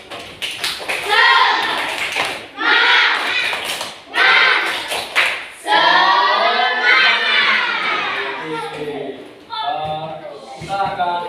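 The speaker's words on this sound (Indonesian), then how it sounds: "Tepuk semangat." A school class performs rhythmic spirit clapping, bursts of patterned claps alternating with children shouting and chanting together in loud, lively group sections, close by.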